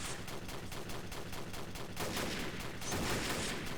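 Rapid gunfire from a Carl Gustav anti-tank rifle in the Red Storm mod battle game, a dense, continuous run of sharp reports that grows louder toward the end, with no talk over it.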